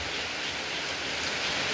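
Heavy rain pours down outdoors as a dense, steady hiss, close and continuous with no breaks.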